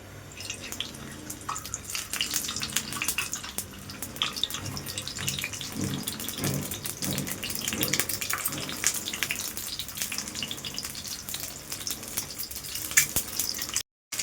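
Eggs frying in hot mustard oil in a frying pan, a steady crackling sizzle with scattered pops and spits, fairly close and continuous, with no voices.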